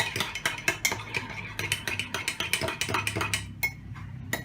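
Whisk beating batter with butter and milk in a bowl for a microwave cake, a fast steady run of close, sharp scraping clinks against the bowl with no talk.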